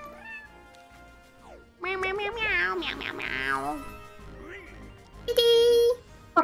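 A cat meows a few times, drawn-out and wavering, with one loud high cry near the end, among soft background sounds.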